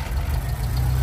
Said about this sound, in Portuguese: Meu amigo vai dar partida aqui no motor